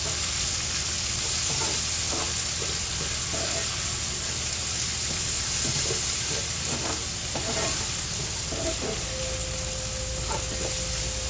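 Food sautéing in a hot pan gives a steady, loud, close sizzle throughout, with occasional faint clinks and stirring sounds over the hiss.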